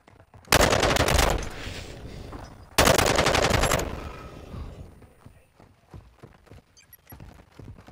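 Two loud bursts of automatic fire in the video game Call of Duty Modern Warfare 2 beta, each about a second long, followed by quieter scattered clicks and footstep-like taps.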